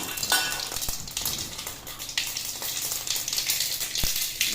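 Mustard seeds fry in hot oil, giving a dense, close sizzle scattered with sharp crackles and pops throughout.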